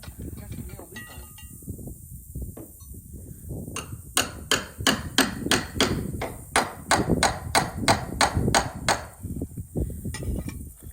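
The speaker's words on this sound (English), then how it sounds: "Got to nail these on." A hammer drives nails into the rafters of a tiny house roof, with a run of about a dozen sharp, evenly spaced strikes outdoors over a low rumble of background noise and faint voices.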